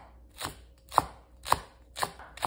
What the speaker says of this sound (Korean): 야채 먼저 썰어 볼게요.